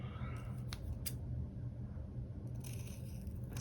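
Scissors snip through planner stickers in a few quick, faint, close cuts against a low background hum, with no talking.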